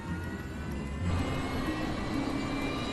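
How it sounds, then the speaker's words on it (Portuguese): A jet engine on a Fokker F-28 airliner spools up during startup, powered from the already running second engine, as a steady whine and roar that swells slightly partway through. "O comandante Morwood usa a potência do motor número 2, já em funcionamento, para acionar o número 1"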